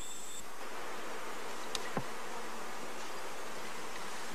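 Honeybees hum softly in a queenless cell starter colony, a faint steady buzz close by with a couple of brief knocks and no voices.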